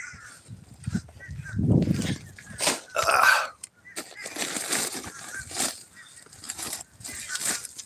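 Harsh, honking calls of geese at feeding time break out in bursts over a noisy outdoor background, several birds calling close by in an excited clamor.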